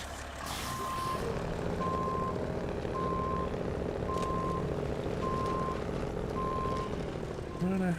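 A truck in a driving video game reverses with a steady series of evenly spaced electronic beeps over a constant engine drone, with a voice talking intermittently underneath.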